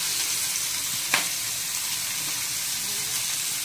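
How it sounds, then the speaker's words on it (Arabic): Meat and onion sear in a pan for a Gulf-style kabsa, a loud, even, close sizzle throughout with one brief scrape of stirring early on. "نشحر اللحم مزيان"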